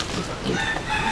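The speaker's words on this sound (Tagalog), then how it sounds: "Manok." A farmyard chicken clucks and crows in a short, close burst, with a rough throaty call over faint background noise.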